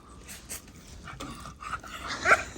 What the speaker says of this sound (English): That little old dog.